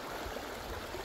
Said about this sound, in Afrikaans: Hier loop ons nou langs die rivier.